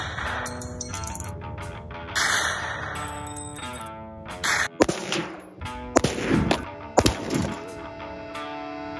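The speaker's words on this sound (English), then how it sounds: "Now it's ready to be shot up." Gunshots fired at an Apple Watch Ultra, several sharp loud bangs spaced irregularly among ringing metallic clinks and rattling debris, close and loud.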